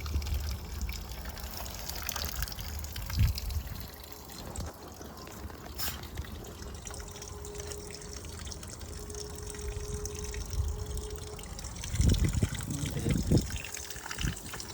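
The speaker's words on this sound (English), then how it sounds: "Oh, we got a leak. Oh shit, it's leaking." Water trickles and drips from a leaking fitting sealed with Teflon tape on a backyard project, a faint steady dribble with a few louder splashes and rustles.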